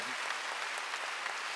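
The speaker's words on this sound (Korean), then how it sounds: "박수 좀 세게 쳐봐요" Congregation clapping loudly during a Wednesday church worship service, a dense, even wash of many hands applauding at close range with no pauses.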